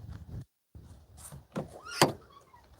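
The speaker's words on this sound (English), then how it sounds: "Squeaky door." An old door swings open with a rising squeak and a dull thunk, heard close in a quiet indoor space among footsteps and shuffling, with no talking.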